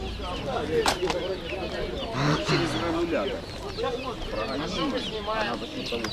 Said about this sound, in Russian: Цыплята декоративных кур.